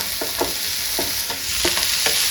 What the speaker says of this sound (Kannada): ಕಾಯಿ ಮೆಣಸು ಹಾಕಿದೆ. ಇವಾಗ ಕಾಯಿ ಮೆಣಸು ಸ್ವಲ್ಪ ಫ್ರೈ ಆಗಿ